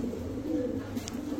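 A pair of large Hammer breed pigeons gives faint, low, soft cooing in a brief murmur close by.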